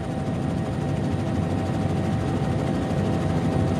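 A helicopter hovers in a tsunami disaster action film, its engine and rotor giving a loud, steady, close drone throughout with no talking over it.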